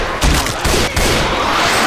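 Rapid bursts of video game gunfire against zombie enemies, loud dense shots clustered in quick volleys over under two seconds, with no talk.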